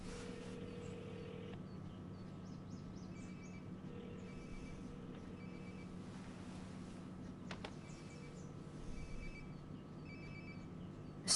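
A phone rings in Life is Strange: Before the Storm, a repeating electronic ring in regular bursts over a low steady room hum. It is faint and continuous, with no voices.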